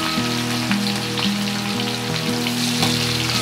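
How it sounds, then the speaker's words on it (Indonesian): Bacem-marinated tempeh fries in hot oil with a dense, steady sizzle and crackle, scattered sharper pops over a low background hum, and no talk. "Kalau sudah panas, kita goreng tempe yang kita bacem tadi."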